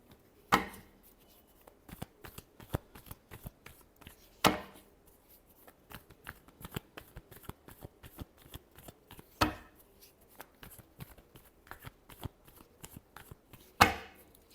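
Tarot cards are shuffled by hand in rapid riffling bursts, with a few louder snaps at intervals between the quick clicking runs, close and alone.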